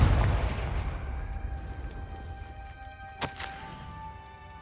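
Confringo blasting spells go off in the video game Hogwarts Legacy, a heavy boom rumbling at the start and decaying, followed by a sharp crack with ringing tonal tails a few seconds later.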